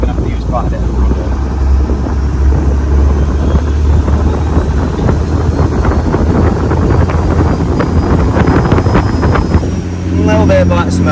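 A 1980s powerboat with Ford turbo engines, one cracked, runs at top speed on a single engine, a loud steady roar mixed with rushing wind and water, with brief talk near the end.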